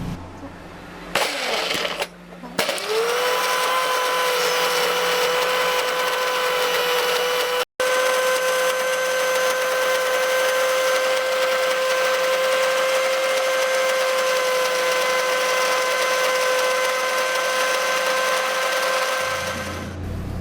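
An electric grinder blends ginger and garlic, starting with a few clunks before spinning up into a loud, steady whine that runs without pause for about seventeen seconds, then winds down.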